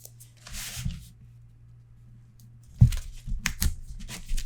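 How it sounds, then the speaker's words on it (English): Adhesive tape peeled from its backing and pressed down while assembling a Stamperia Garden of Promises paper mini album, a faint early rustle followed by sharp close crackling and tearing bursts. "Take the back off the tape, and then bring down where it needs to go"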